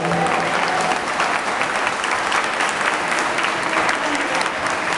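A church congregation applauds during an evening worship service, a dense, steady wash of clapping that fills the space throughout at an even level, with a voice faintly speaking over it.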